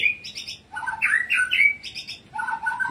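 An oriental magpie-robin sings a run of clear, varied whistled phrases and chirps, close and fairly loud, with short pauses between bursts and no one talking.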